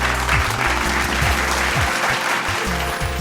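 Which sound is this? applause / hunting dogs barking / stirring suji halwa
applause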